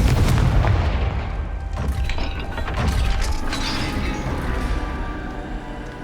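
In Hogwarts Legacy a Confringo fire spell goes off with a heavy booming blast and crackling debris that rumbles and fades over several seconds, no voices.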